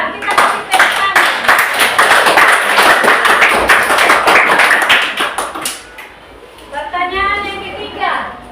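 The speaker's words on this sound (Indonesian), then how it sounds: "Kita kasih tepuk tangan." A classroom of children claps together in a loud, dense burst lasting several seconds before it thins out, and a voice follows once the clapping stops.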